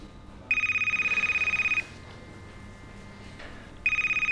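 A telephone ringing indoors in a French horror short, with a trilling electronic ring that pulses rapidly for over a second, pauses, then starts again, heard close and clear over a faint room hum.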